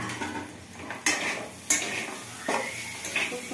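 A pan of fried carrot, beetroot and potato mix bhaji clinks and scrapes against metal utensils in three or four sharp strikes over a light background sizzle, with no talking.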